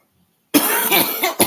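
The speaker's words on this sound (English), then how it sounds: "It be making my throat dry, make you want to cough." One person coughs from a throat gone dry with allergies: silence, then a rough cough burst, a short rasping follow-through and a second quick cough, close and loud.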